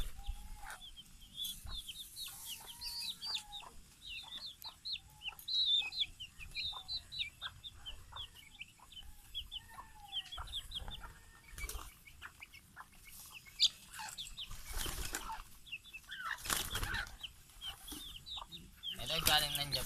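Chickens cluck and chatter steadily across an outdoor coop scene, many short calls overlapping at mid distance, with occasional louder noises cutting through.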